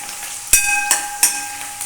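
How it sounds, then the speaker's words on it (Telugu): Chopped green chillies sizzle in a pan of frying potatoes, with a steady hot crackle and a few sharp stirring scrapes of the spoon at a close, fairly loud level. "తర్వాత మనం కట్ చేసి పెట్టుకున్న పచ్చిమిర్చి వేసుకొని మళ్ళీ ఒకసారి కలుపుకోవాలండి"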